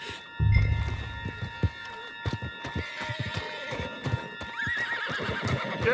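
Horse in the video game Red Dead Redemption 2 whinnying loudly, then trotting with steady clip-clop hoofbeats and snorts, close and clear over faint game ambience.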